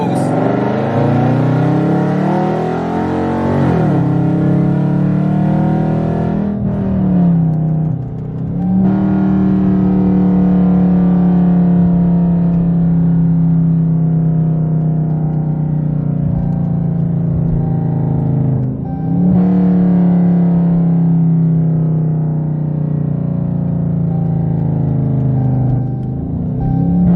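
A 2017 Dodge Charger R/T with a 5.7L V8 and full 3.5-inch straight pipe exhaust, heard from inside the closed cabin as it pulls hard through several gears, a loud deep droning roar rising steadily with brief dips at each shift.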